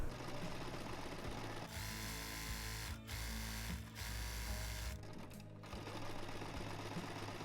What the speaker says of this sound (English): I'm going to zigzag stitch it as well, because as I remember, it was quite fraying when I used it.